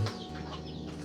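Brief, soft clucking of chicks close by.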